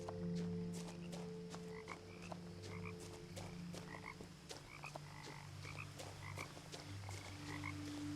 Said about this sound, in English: I can hear the frogs.